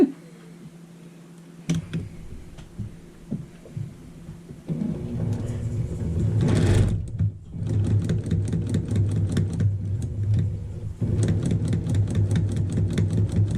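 A sewing machine stitches quilt fabric for a fan quilt. After a few scattered handling clicks and thumps, it runs in two steady, fast-ticking stretches, loud and close, with a brief pause between them.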